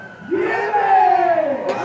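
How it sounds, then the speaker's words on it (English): Baseball team fans cheering at a college softball game. A loud, rising cheer with shouting voices swells up and holds steady across the clip. "The fans, the baseball team is on their feet cheering for a walk-off single"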